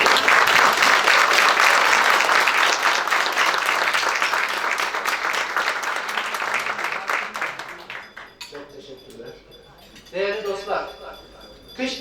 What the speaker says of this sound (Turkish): Bu alkışa bir daha gelmez mi acaba?